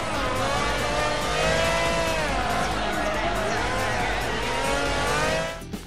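Racing car engine from Project Gotham Racing 3, a loud steady roar with rising and falling revs and tire squeal, continuous for several seconds before cutting off abruptly near the end, with a voice talking over it.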